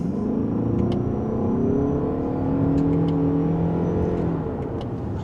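A 2026 Toyota RAV4 GR Sport hybrid accelerating in sport mode and second gear, heard from inside: a steady engine drone with rising, whining harmonics building smoothly and loudly over several seconds, without speech.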